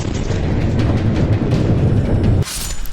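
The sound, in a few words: large explosion blast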